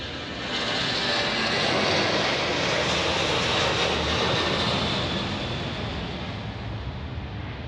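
A Southwest airliner in a special California One livery passes at Dallas Love Field with a loud, broad engine roar that swells and holds for several seconds, with no talk.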